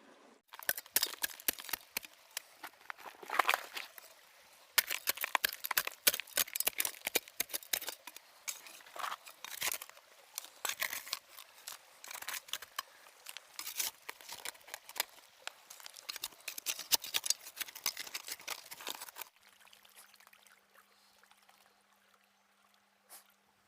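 Gold pan worked with rusty creek gravel, gritty scraping, rattling pebbles and sloshing water in irregular bursts, close and fairly quiet, dropping to a faint hum near the end.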